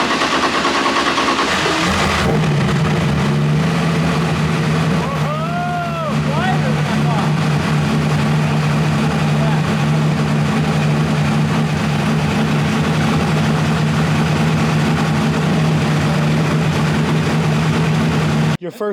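A drift car's engine, fitted with MBRP mufflers, idles loudly and steadily right after its first startup. The deep, even hum continues throughout, with voices briefly heard over it.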